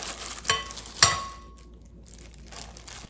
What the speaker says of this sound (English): Mix it well gently.